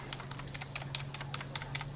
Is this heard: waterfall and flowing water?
no